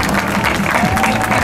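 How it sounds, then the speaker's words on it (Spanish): Audience clapping at a presentation of a classic and historic vehicle rally on the Costa del Sol, a dense, close burst of applause that fills the whole moment, with some voices mixed in. "Un aplauso."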